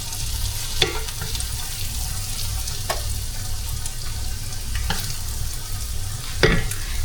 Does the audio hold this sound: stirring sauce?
yes